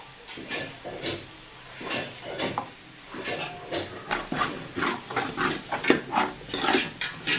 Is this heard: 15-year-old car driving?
no